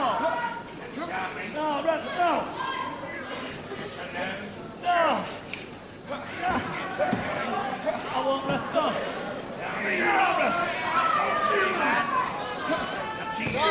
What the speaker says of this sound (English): the packed crowd, packed to capacity, really enjoying this first bout of the afternoon's program